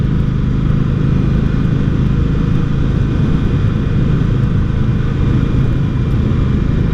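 An Indian Scout 60 motorcycle is being ridden, its engine a steady, loud, unbroken drone with constant low rumble and no voices over it.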